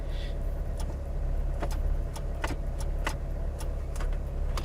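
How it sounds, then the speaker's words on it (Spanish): Several sharp, small clicks from a car's heater and air-conditioning control dial sound one after another at an uneven pace over a steady low rumble of the idling car. "Vamos a escuchar un clic."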